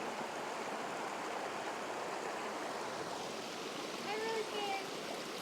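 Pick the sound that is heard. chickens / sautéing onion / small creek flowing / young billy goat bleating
small creek flowing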